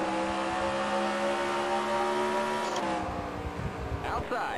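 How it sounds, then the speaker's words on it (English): Race car wheel spin at a green-flag restart in the NASCAR Racing 2003 video game, K&N race at Memphis International Raceway: several engines drone loudly and steadily, with a sharper whine near the end. "Watch the wheel spin there"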